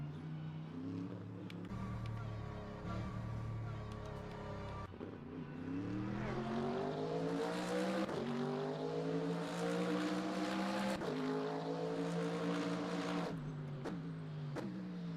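Twin-turbo race car engine in the Le Mans Ultimate racing game, pulling up from low revs with a deep growl that climbs in pitch through several rising sweeps, loud and close, with brief drops between gear changes.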